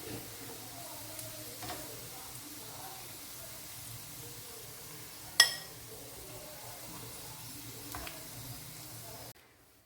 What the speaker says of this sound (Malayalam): ചിക്കൻ ഇവിടെ ഫ്രൈ ആയിട്ട് വന്നിട്ടുണ്ട്. നമുക്കിത് എണ്ണയിൽ നിന്ന് കോരി മാറ്റാം.